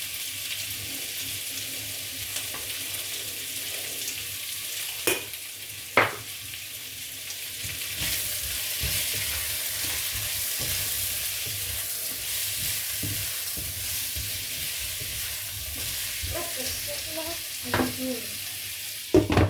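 Bitter melon (ampalaya) and lechon pork stir-fry in a pan with a steady sizzle, and a few sharp clanks of a utensil against the pan punctuate the frying.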